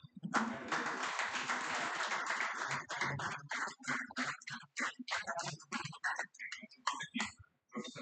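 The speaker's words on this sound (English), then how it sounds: "let's welcome with a huge round of applause" An indoor audience at a higher-education reform event greets a speaker with a dense burst of clapping that thins after a few seconds into scattered, separate claps.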